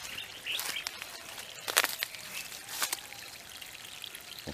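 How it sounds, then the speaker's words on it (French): A drip irrigation system runs water in an orchard, soft trickling and splashing close by, with a few bird chirps in the background. "Donc ce système de goutte à goutte"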